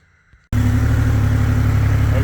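An Indian Challenger motorcycle with new Indian mufflers fires up after a short quiet moment, then settles into a loud, steady, low rumbling idle close by.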